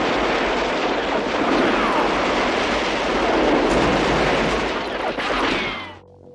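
Dense gunfire in a Vietnam War film battle against the Vietcong forms a loud, continuous crackling roar that holds steady for several seconds before fading away at the end.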